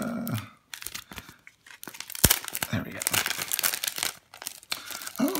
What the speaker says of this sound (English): let me take it out of the plastic.